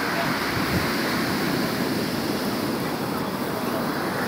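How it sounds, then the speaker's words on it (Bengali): Steady, loud surf rolls in continuously on the sea beach at Puri, a dense wash of breaking waves with some wind rumble and no clear pauses. "এখন আমরা আছি সমুদ্র সৈকতে।"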